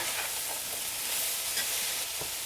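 Pancit noodles sizzle in a hot pan as they are stirred, a steady broadband frying hiss with faint scraping touches throughout, close and continuous with no voices.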